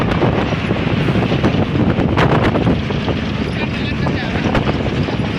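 Strong wind roars across the microphone in gusty bursts beside the Mumbai–Agra highway, a loud rushing noise that persists with faint background rumble.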